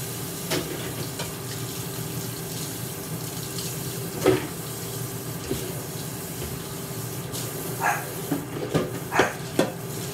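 Blendtec blender jar rinsed under running water: a steady tap stream splashing inside the jar, with a few brief knocks and sloshes near the end.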